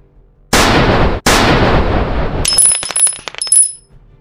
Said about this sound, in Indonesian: Lalu Meng Chao bersiap untuk menembak kembali.